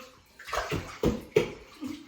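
Children splashing water in a bubble bath: a few sharp slaps and sloshes at close range, irregularly spaced, with splashing water between them.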